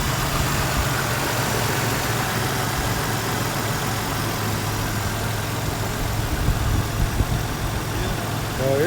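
Toyota Tacoma pickup engine idling after a motor swap, a steady loud low rumble running evenly throughout, close by, with no break in its drone.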